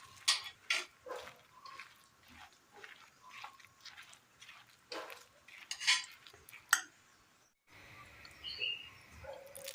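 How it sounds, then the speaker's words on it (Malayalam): A spoon clinks and scrapes irregularly against a bowl as batter with a little water is mixed up close, with short pauses between bursts of stirring. "നന്നായി ഒന്ന് മിക്സ് ചെയ്തെടുക്കാം"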